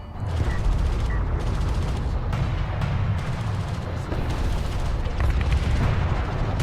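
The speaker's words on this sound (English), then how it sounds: "Pretty good mortar right there" Mortar fire in the real-time strategy game Deserts of Kharak, a continuous barrage of heavy booms and rumbling explosions layered with battle noise, loud and dense throughout without a break.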